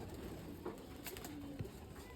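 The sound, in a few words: pigeons being released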